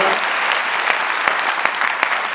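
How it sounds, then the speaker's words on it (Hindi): Meeting audience in Sujangarh applauding, a loud, dense wash of clapping with a few sharper claps standing out, steady from start to finish. "एक बार सबके लिए ताली बजा लीजिए।"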